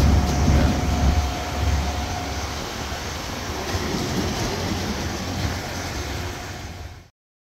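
Loose bulk potatoes tumble and rumble out of a steeply tipped trailer, a dense continuous rolling clatter that holds steady for about seven seconds before cutting off.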